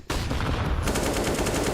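Counter-Strike gunshots in a DreamHack match, a dense rapid automatic burst firing nonstop for under two seconds, loud and close with no talk.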